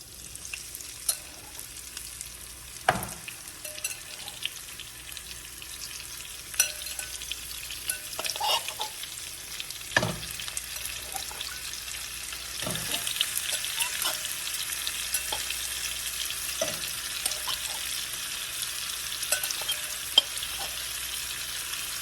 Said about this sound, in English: that's where I'm going with the onions in that skillet, and I'm gonna put this meat right on top of that.